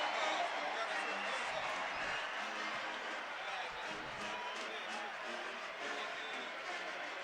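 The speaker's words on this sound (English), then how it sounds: "You heard the roar from the crowd." Stadium crowd roaring after a touchdown at a Valdosta State Blazers versus Albany State Golden Rams college football game, a broad sustained wash of cheering that holds steady throughout, with no distinct talk over it.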